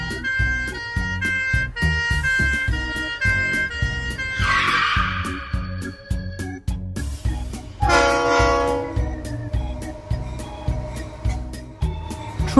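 A train rumbles along with rhythmic wheel clatter while its horn sounds in loud blasts, alongside hissing bursts and clanking.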